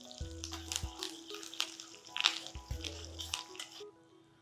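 Curry leaves and a pinch of cumin fry in hot oil, giving a steady crackling sizzle with sharper pops and spits scattered through it, over a low background hum.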